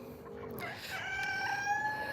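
A farm rooster crows a single drawn-out cock-a-doodle-doo that rises and holds, moderately distant and fairly faint against outdoor background noise.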